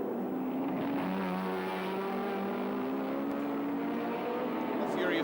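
Touring race cars roar off together at the 1984 Sandown race start, a loud sustained engine drone with layered revving tones that holds steady throughout, commentary voices running over it.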